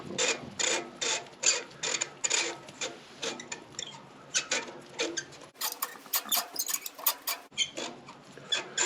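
A spark plug with a crush washer is threaded by hand into a 2012-2017 Toyota Camry 2.5L engine using a magnetic swivel socket, giving close, repeated short scraping clicks and ratchety rubs in an uneven rhythm.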